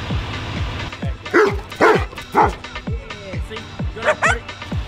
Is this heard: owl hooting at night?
no